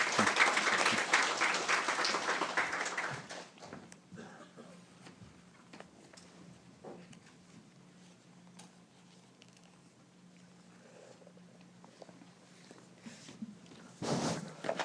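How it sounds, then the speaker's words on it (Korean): Audience applause at a Jeju forum session on trade, loud clapping for the first few seconds that fades to quiet room noise, then a short burst of applause returns near the end. "큰 박수로 다시 한번 모셔주시죠."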